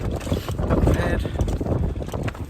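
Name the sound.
strong wind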